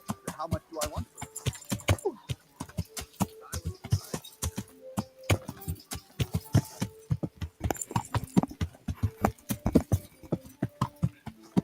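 A horse's hooves clip-clop close by in a video game, a brisk uneven patter of sharp knocks that runs throughout, with a voice speaking over part of it.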